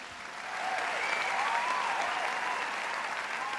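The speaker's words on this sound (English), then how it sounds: "So give yourselves a round of applause." Sustained applause from a large awards-show audience, swelling in after a quiet start and holding steady as a dense wash of clapping with faint cheers.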